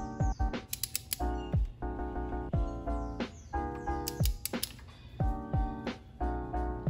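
Ratcheting torque wrench set to 19 foot-pounds tightening a spark plug on a VW Passat 1.8 TSI, giving close, crisp clicking ratchet strokes in repeated bursts with short pauses.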